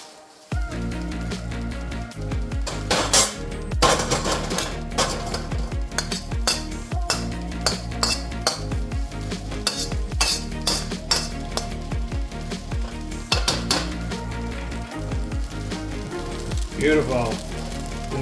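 Phad Thai being stirred in a pan, Bangkok street style, with steady clinks of utensil on metal and scraping over a soft sizzle, busy and close throughout.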